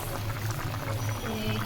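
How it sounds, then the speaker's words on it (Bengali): Water pours into a pan where river pangas fish is cooking with cauliflower. A steady close pouring and bubbling sound runs throughout at an even level. "কষিয়ে নিয়েছি, নিয়ে তারপর জল দিয়ে দিচ্ছি।"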